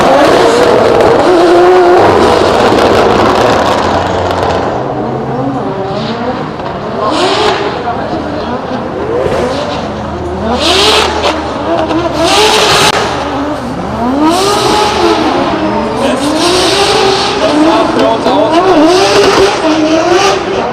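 Drift cars at a night practice session in Germany race in tandem, engines revving hard and bouncing off the limiter while tires squeal, loud and continuous, with a commentator talking over the action throughout.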